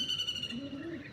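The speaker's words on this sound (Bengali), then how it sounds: "পায়রা দুটো হাতে শখ করে দিচ্ছি," A pigeon coos close by in a soft low rolling call, a single short phrase with faint chirps and background noise, while no one speaks.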